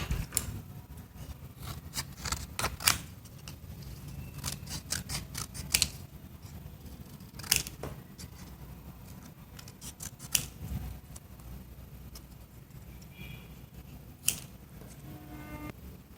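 Scissors snip through paper for a mini calendar craft: sharp, close cuts arriving in irregular bursts with quiet handling noise between them.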